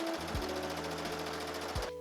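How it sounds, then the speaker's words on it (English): A sewing machine stitches around a curved seam of overalls lining, a steady mechanical whir running continuously and close up for the whole stretch. "now I'm going to sew all around this curve."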